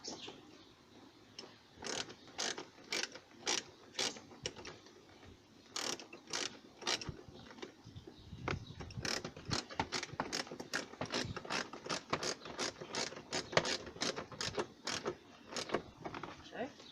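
Bolts being driven back into the window regulator of a 2007 Chevrolet TrailBlazer with a ratchet, giving a long run of close, sharp repeated clicks in bursts.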